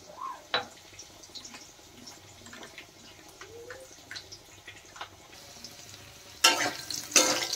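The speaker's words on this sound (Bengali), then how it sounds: "দেখেন আলু ভাজা হয়ে গেছে" Potatoes frying in oil in a pan produce a quiet, uneven sizzle dotted with small pops and spatters, swelling into a louder, hissing burst near the end.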